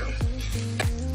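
Egg sizzles in a frying pan with bitter gourd (ampalaya), a crackling frying hiss broken by a few stirring scrapes and clinks of a utensil against the pan, close and without voices.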